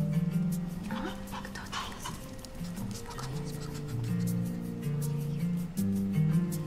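A dog in visibly poor condition pants and whimpers steadily at close range, with thin high whines running over continuous breathy panting for the whole stretch.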